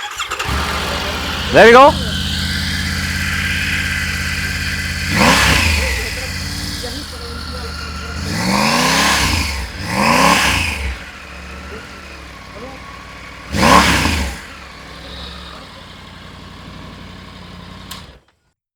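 A 2025 Triumph Tiger motorcycle engine cranks, catches and revs in several sharp bursts over a steady idle, loud and close, with people talking briefly.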